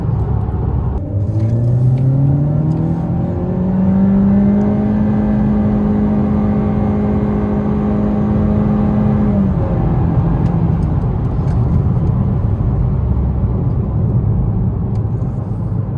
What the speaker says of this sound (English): when you put in sport mode and push gas, it will shift automatically